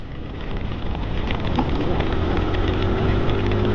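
Heavy rain pours steadily during a motorcycle ride, a loud, constant close-up wash of hiss mixed with low engine and road rumble that holds without a break.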